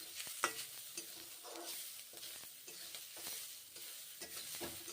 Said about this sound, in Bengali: ভেজে নিচ্ছি পেঁয়াজগুলো।